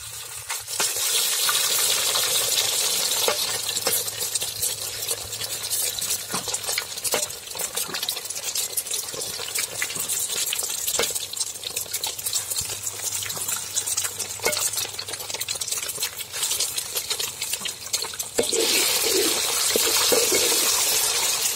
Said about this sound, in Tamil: இப்போ வந்து முட்டையை உடச்சி ஊற்றிக்க போகிறேன்.